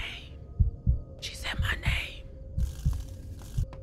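Low, steady heartbeat thumps throb beneath the horror game Fears To Fathom: Carson House, repeating evenly while soft whispery voices and airy noise come and go over them.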